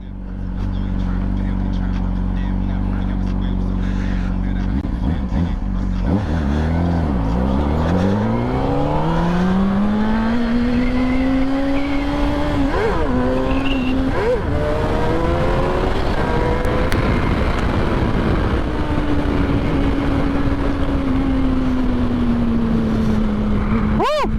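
Honda CBR 600 sport motorcycle engine heard while riding: a steady loud drone that rises and falls through gear changes, with rising and settling engine pitch and some wind rush throughout.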